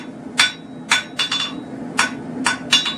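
A hammer strikes steel on the horn of an anvil at a beginner blacksmith's forge, about eight bright, ringing blows in an uneven rhythm, close and loud with nothing else heard.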